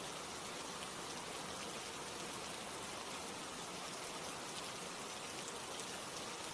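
Steady rain falls evenly in a dense, soft hiss with fine pattering, unbroken and fairly quiet throughout, with no voices.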